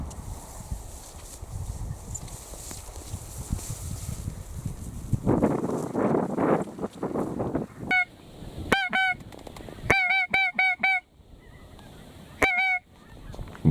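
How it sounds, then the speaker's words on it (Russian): A large flock of bean geese arriving over a lake during a November goose hunt in Germany, with loud bursts of repeated honking calls after a stretch of wind and rustling, nearby and clear, no talk. "Ближе к обеду на озеро начали подходить большие косяки гуменника"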